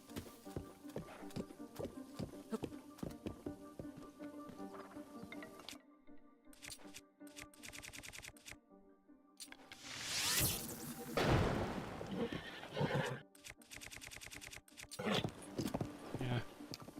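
Horse hooves clip-clop in the Zelda Breath of the Wild video game, with a steady run of hoofbeats through the first part, a whoosh and a short whinny near the middle, and more game sounds after.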